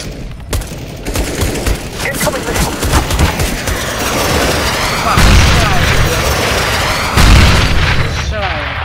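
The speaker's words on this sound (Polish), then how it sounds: "Strzelają." Gunfire and explosions from a video game mission: dense rapid shot bursts and heavy booms build in intensity, with players' voices talking over the fighting.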